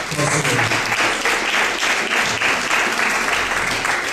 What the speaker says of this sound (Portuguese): Pode bater palmas ao Senhor.